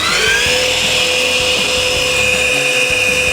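A Bosch dust extractor vacuum motor starts up and whines steadily at a high, constant pitch, loud and close, with faint knocks underneath, at a woodworking trade show.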